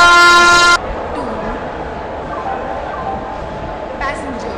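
A loud, sustained train horn sounds in a railway video game as the Gatiman Express arrives, a harmonic blast cut off sharply under a second, followed by quieter rail rumble and a brief later toot.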